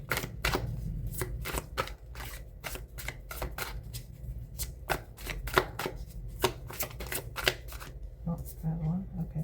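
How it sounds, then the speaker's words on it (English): Tarot cards are shuffled and pulled from the deck during a reading, a close series of crisp snapping flicks and slaps in an uneven rhythm, with a voice speaking briefly near the end. "Let me pull some more cards."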